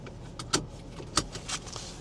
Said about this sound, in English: So I'm going to put on my seatbelt real quick.